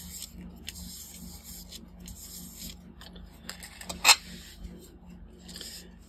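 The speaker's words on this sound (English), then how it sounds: "I'm going to texture it with 60 grit sandpaper" Polymer clay textured with 60 grit sandpaper, giving soft, intermittent rubbing and scratching close up over a low steady hum, with one brief sharper scrape partway through.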